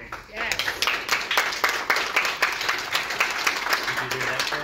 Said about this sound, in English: And if people applaud, great.